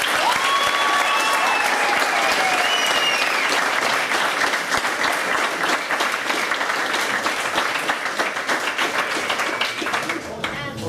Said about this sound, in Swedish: ger tjejerna en stor applåd